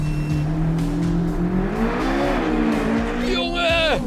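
A 645-horsepower Chevrolet Corvette Z06 engine roars as it launches hard using launch control, the revs climbing in a steady rising whine before a shift near the end, loud and close.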